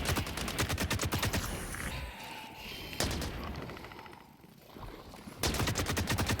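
Rapid automatic gunfire in the video game The Cycle: Frontier, aimed at the Howler creature: loud bursts of rattling shots come in three spells separated by brief lulls filled with softer game ambience, and no one talks.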